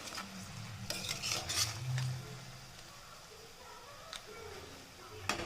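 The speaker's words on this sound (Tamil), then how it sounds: "அது மாதிரி கிளறி விடுங்க." Crab masala is stirred in a pan, with scraping and clinking of a spoon against metal in bursts. A soft sizzle sits under it, and a low voice murmurs briefly in the background.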